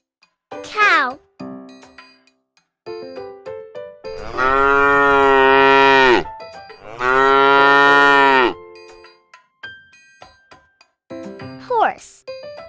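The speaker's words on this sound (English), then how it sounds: "cow," Two long, loud, close cow moos, each lasting about two seconds, rise out of playful chiming children's music with short vocal cues before and after.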